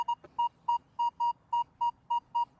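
A metal detector sounds a clean, repeated good tone over a solid silver ring, about ten even beeps in a steady rhythm, clear and alone.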